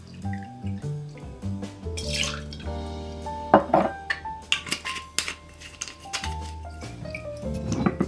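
White agricole rum, a 3 cl measure for a Mai Tai, pours into a cocktail shaker with a brief liquid trickle and drip beneath steady background music.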